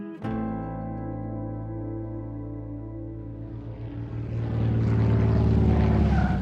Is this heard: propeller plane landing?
yes